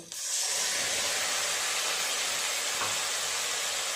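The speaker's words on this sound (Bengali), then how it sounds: "পেঁয়াজটা হালকা করে একটু ভাজা হয়ে গেছে দিয়ে দেবো টমেটো" Chopped onion and tomato fry in hot oil for a shrimp-stuffed tomato curry, giving a loud, steady, close sizzle that hisses without a break from start to finish, with no talking.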